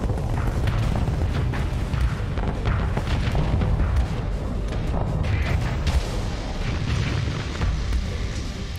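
Dense barrage of booms and thuds from missiles, including micro missiles and Thunderbolts, launching and impacting in the space game Starsector, a loud, continuous rumble of overlapping blasts.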